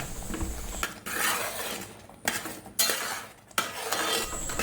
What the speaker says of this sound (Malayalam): ഈ ശർക്കര ഇതിനകത്ത് കിടന്ന് നന്നായിട്ടൊന്ന് ഉരുകി വരട്ടെ, അതുവരെ നമുക്കൊന്ന് ഇളക്കി കൊടുക്കാം